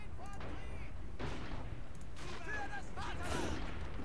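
Gunfire in Men of War: Assault Squad 2, a German mission with airborne troops, rattling as steady battle noise with several sharper bursts, running under a speaking voice throughout.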